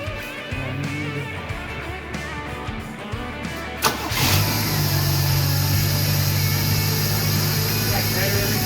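A 1979 Chevy Nova, its carburetor being rebuilt, cranks and fires up, then settles into a steady, loud idle, with voices talking nearby.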